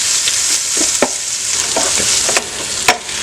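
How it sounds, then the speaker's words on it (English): Red onions sauteing in a pan for chicken biryani, a loud close sizzle with scattered scraping stirs and clicks of the utensil against the pan, no talk. "So we'll go ahead and saute the onions until they get around like translucent."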